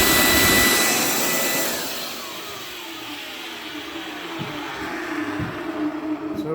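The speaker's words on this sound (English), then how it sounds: "Vacuum works." A vacuum cleaner runs in a shed, a loud broadband whoosh that eases down slightly, then steadies into a continuous rushing drone with a few light knocks.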